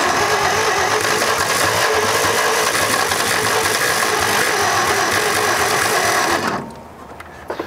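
A 1946 International truck engine, abandoned for years and with a stuck carburetor float, runs roughly and loudly with a steady rattling chug, then cuts off abruptly near the end, leaving quiet with a few small clicks.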